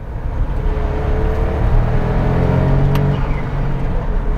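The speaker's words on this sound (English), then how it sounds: "mounted right at the back is a teeny tiny turbocharged 698cc 3-cylinder." A Smart Roadster's rear-mounted turbocharged 698cc three-cylinder engine runs at a steady, loud drone from inside the moving car, with a low rumble and a faint whirring note.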